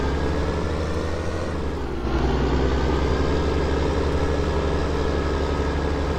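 Steady tractor engine drone in Farm Sim 19, hauling hay to cattle: a loud, continuous low rumble with a brief dip and rise in pitch near two seconds, then an even idle-like hum throughout, no voices.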